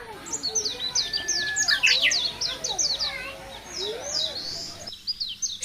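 Red avadavats at a zoo chirp in quick, high twittering bursts, with several birds calling over one another close by above a low background murmur.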